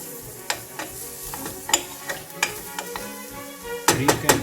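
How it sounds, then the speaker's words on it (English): Onions sweating in a pan as the base for a lemon butter cream sauce: gentle sizzling beneath a series of distinct spoon-against-pan clacks and scrapes at irregular intervals, ending in a louder burst of stirring. "I'm just going to sweat the onions off"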